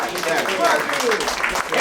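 Audience applause at a Bronx community forum, a short burst of crowd clapping mixed with voices talking over it.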